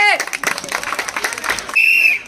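A group clapping during a balloon-popping game, a burst of scattered, rhythmic handclaps mixed with voices, ending with a sharp whistle-like tone.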